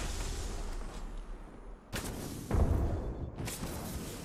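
Grenade detonating in the Apex Legends video game, a distant thud and blast amid continuous gunfire and rushing noise, with a sharp burst near the middle and a second loud report shortly after.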